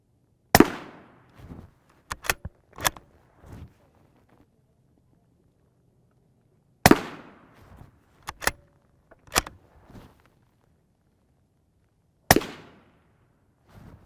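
M855 rifle rounds strike Hesco M210 SRT armor in five sharp, loud reports, each followed by a quick metallic clang or two from the impacts, with long quiet gaps between shots.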